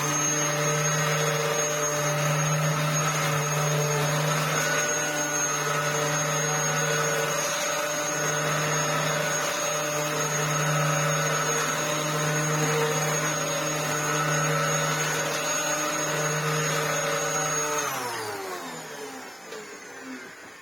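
A Dyson DC07 upright vacuum cleaner with a freshly changed belt runs steadily and loudly on its own with a constant motor whine, then spins down and fades near the end.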